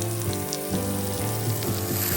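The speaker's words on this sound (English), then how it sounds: "We will be braising the lamb shanks, browning the meat on all sides." Lamb shanks browning in a hot skillet give a steady, close sizzle with faint crackles and light scraping, constant throughout with no voices.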